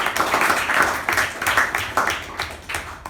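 Members at a Toastmasters meeting keep up steady applause: dense, overlapping hand claps from a small room crowd, close and continuous with slight swells.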